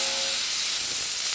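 A smoke machine lets out a steady, loud hiss of smoke that runs without a break for about a second and a half, close by, with no voices over it.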